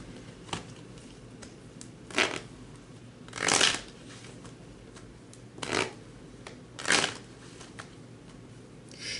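Tarot cards being shuffled by hand, several separate riffling bursts spaced a couple of seconds apart over a soft steady background, close and fairly quiet, with no talking.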